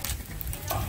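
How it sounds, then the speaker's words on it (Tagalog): Cassava bread fries in a pan over a strong flame, giving a brief, close, crackling sizzle with a stirring scrape. "Naggawa siya ng fried tinapay."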